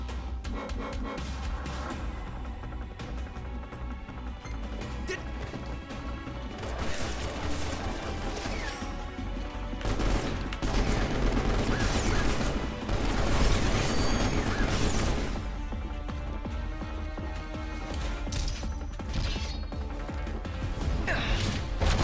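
Rapid SMG fire in Final Fantasy XV's Prompto episode rattles over dense, loud game audio, mixed with crashes, impacts and booming effects that swell in waves throughout.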